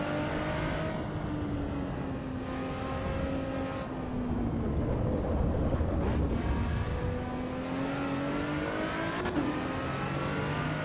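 An Exige race car engine in the Assetto Corsa EVO racing game revs up and down repeatedly, its pitch rising, dropping at gear changes and climbing again in a steady, close-up drone.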